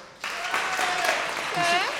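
A crowd at a live show bursts into applause and cheering, loud and sustained, with voices calling out over the clapping.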